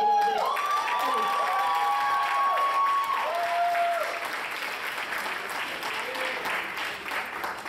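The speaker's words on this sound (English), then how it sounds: "we first need to give a huge round of applause for Amma Napa." A wedding reception crowd claps steadily in a sustained round of applause, with a few tonal squeals over the top that fade as the clapping thins slightly.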